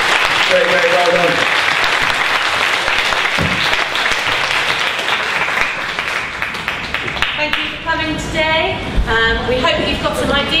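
Applause closing a school assembly, a loud stretch of clapping that thins out as voices take over toward the end.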